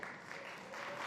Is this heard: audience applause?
yes